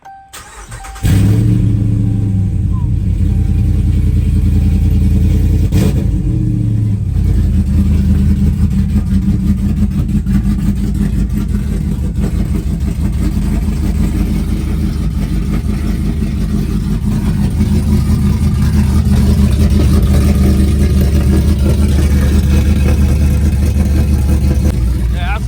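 A truck engine with open headers and electric cutouts fires up abruptly and settles into a loud, rough, rumbling idle with occasional revs, close and constant for the whole stretch, with someone talking now and then.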